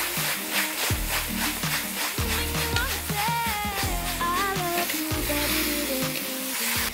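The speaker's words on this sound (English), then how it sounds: "Then mix everything and stir fry." Chow fun rice noodles with soy sauce and Shaoxing wine are stir-fried in a wok, giving a constant bright sizzle and hiss throughout, with background music playing over it.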